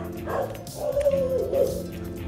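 Dog on a farm giving a drawn-out whining bark and yelps, close and fairly loud, with no talk over it.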